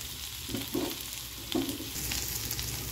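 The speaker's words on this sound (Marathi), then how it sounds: "कांदा छानपैकी सोनेरी होईपर्यंत परतून घ्यायचा।" Onion frying in a pan for Konkani-style chicken masala, a steady close sizzle with a few soft stirring scrapes, no voices.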